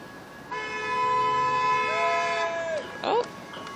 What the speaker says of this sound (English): hey, we got honks